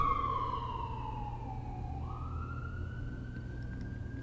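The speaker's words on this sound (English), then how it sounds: "Can you hear the sirens" Emergency vehicle sirens wail in the distance, one long tone sliding down and then shifting up, faint over a steady low background hum.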